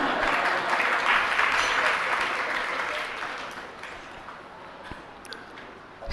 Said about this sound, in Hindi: आपने दूसरे बार में तालियां बजा दी, पहले बार में क्यों नहीं बजाई?